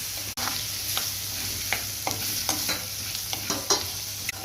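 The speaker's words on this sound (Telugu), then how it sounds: "ఉల్లిపాయ బాగా వాడి దగ్గర పడుతూ ఉంది మాడకుండా ఒకసారి కొంచెం అటు ఇటు" Onions fry in a pan for an easy chicken fry, with a quiet, constant sizzle broken by a sharp knock and a string of scraping stirs as they are turned back and forth. No one speaks.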